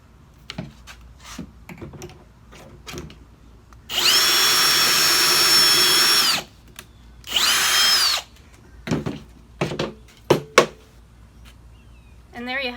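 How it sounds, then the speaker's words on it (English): A drill bores an angled pocket hole into wood, giving a loud steady whir of about two and a half seconds followed by a shorter second burst, with clicks and handling knocks around it. "this drilled an angular hole"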